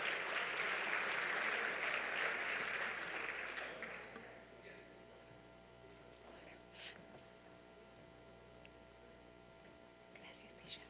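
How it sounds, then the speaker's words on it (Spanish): Applause for a panel of presenters at an investment conference session, a full crowd clapping loudly for about four seconds, then dying away into quiet room noise with scattered faint claps and murmurs. "Un aplauso para los que conforman este sexto bloque"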